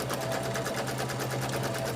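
A serger runs steadily as strips of fabric are joined for a quilt, a dense rapid mechanical chatter with a low motor hum, continuous and close with no voices.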